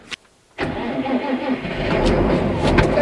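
A tractor engine cranks after a brief click, catches and settles into a steady, loud idle close by on a cold December day, with no one talking over it.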